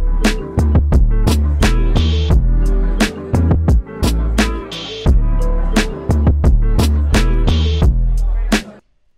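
A hip hop beat built from a sample kit loop pounds with deep 808 bass, punchy drum hits and sampled chords in a steady groove, loud and close, cutting off abruptly at the end.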